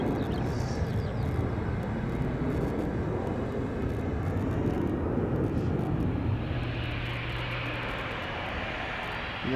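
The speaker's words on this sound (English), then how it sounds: "the A350 1000 just took off from center" An Airbus A350-1000 takes off at Schiphol's Polderbaan, its engines a distant, steady rumbling roar that slowly fades, with no one speaking.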